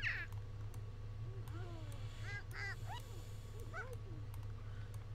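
A cat in The Sims video game lets out a series of short, high, synthetic meows and chirps over a steady low game hum, several calls bunched in the middle.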